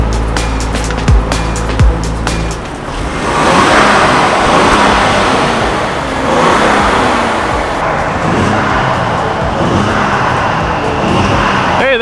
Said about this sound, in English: And now for the least exciting portion of the exhaust